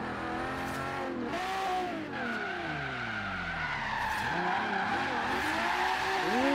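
Forza Horizon 3 Regalia drifting with a steady engine drone and sweeping pitch glides as the revs rise and fall, tire skidding throughout, loud and continuous with no talking.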